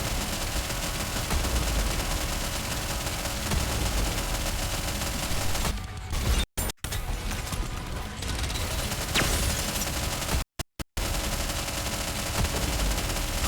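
Bursts of rapid automatic gunfire and volleys of shots fill a combat scene in a video game, loud and sustained, with brief dropouts of near silence partway through.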